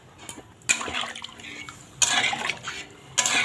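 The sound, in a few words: water being poured into a pot of fish curry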